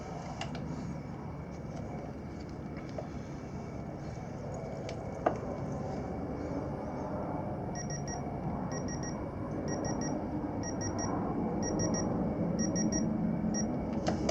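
Digital torque wrench beeping while cylinder head bolts are torqued in sequence on a Kawasaki KLX140 big bore top-end rebuild; a series of short, faint electronic beeps repeats in bursts over a steady low workshop background.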